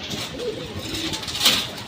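A cherished pet pigeon gives a low, throaty coo that rolls on for about two seconds, close and moderately loud, over quiet background.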